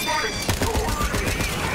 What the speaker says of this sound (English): I think my bullets are ricocheting.